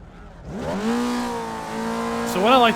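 A Formula Vee race car engine in iRacing on the Tsukuba Circuit revs up at the race start, rising and holding a steady high drone before a sharp blip and a higher pitched rev near the end, loud and close.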